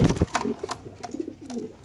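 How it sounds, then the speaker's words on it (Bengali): Racer pigeons in cages give short, soft cooing calls close by, several brief low coos in quick succession. "খাঁচা নাম্বার 96, সবজি রেসার কবুতর, এটা নর, এটা মাদি"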